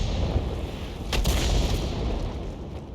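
A Lorraine 155 50 artillery gun fires once in World of Tanks, a sharp, heavy blast with a rolling rumble that fades slowly over low battlefield ambience.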